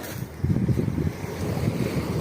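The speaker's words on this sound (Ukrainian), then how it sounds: "Значить, море показую." Waves wash against the coast at Orikum near Vlorë, Albania, with wind buffeting the microphone, a soft rolling surge of surf that is fairly quiet and continuous over a couple of seconds.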